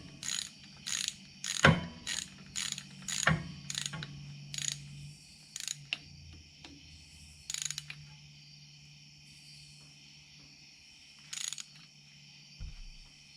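Ratchet wrench with an 11/16 socket tightening head bolts on a Massey Ferguson 135 tractor engine, heard as short rapid clicking bursts repeated across the clip, close and fairly loud with quiet gaps between.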